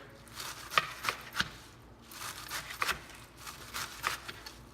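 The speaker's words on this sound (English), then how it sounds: "I'm just going to shred this up thinly as well." A knife shredding vegetables thinly on a cutting board for a kale Waldorf salad, giving quick clusters of crisp chopping taps with short pauses between them, close and moderately loud, with no speech.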